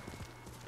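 Horse hooves clip-clop in Ghost of Tsushima, a quiet, steady patter of a few soft strikes over a low rumble, brief and faint with no voices.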